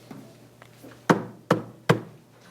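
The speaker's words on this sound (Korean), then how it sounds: "가끔 제가 제 딸의 방문을 두드리는 경우가 있습니다." Three firm knocks on a wooden bedroom door, evenly spaced and close by, with faint room noise between them and no talking.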